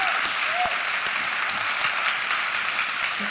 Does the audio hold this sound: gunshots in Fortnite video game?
no